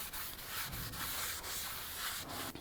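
A cloth rubs steadily over a freshly sprayed brake part on a 2004-2010 Toyota Sienna front brake job, giving close, continuous scrubbing strokes with no talking.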